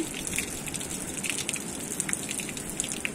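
Mountain spring water pours from a spout into a village stream in the hills, a steady close splashing gush with no talk.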